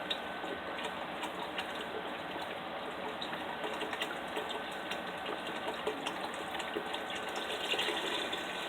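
Beef broth pours into a pot in a steady, hissing stream for several seconds, constant and close with no talking.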